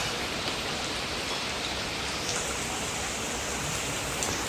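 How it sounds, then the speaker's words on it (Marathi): Heavy rain falls steadily outside a house, a dense and constant hiss of drops hitting surfaces that stays loud and even throughout, with no one speaking. "ते बघा बाजूबाजूला एवढा पाऊस."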